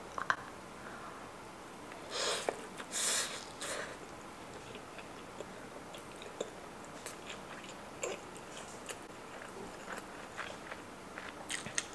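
Spam rice balls dipped in spicy rice cake sauce are bitten and chewed up close, with a few crisp bites followed by soft, quiet chewing and small clicks.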